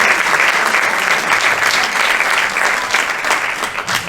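A film festival audience applauds, many hands clapping in a thick, sustained burst that stays loud and even throughout, with a few faint voices mixed into the crowd.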